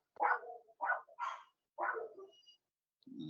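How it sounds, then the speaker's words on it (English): Several dogs bark in short, sharp bursts at a moderate distance, four barks in quick succession with brief gaps, with no talk over them. "barking."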